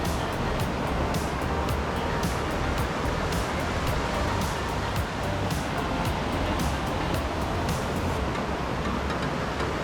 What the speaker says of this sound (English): Eventually, the trail brings you to cross a shallow creek.